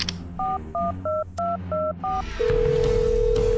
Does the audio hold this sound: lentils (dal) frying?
no